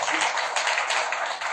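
Steady, fairly dense clapping from an audience at a political rally in Tlaxcala, a continuous patter of many hands at moderate distance.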